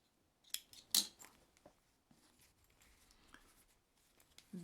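Sewing scissors trim excess fabric beside a zipper seam on a passport wallet, giving a few quick crisp snips close by, followed by faint rustling of cloth in a quiet room.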